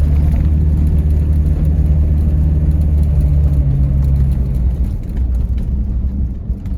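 A 1994 Land Rover Discovery 300Tdi heard from inside as it drives over bumps, a loud, steady low diesel engine rumble and road drone that eases slightly toward the end.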